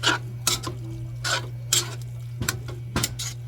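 Beef frying in a small amount of oil in a pan, with several sharp stirring and scraping clatters of a utensil against the pan over a steady low hum and a faint sizzle. No one speaks.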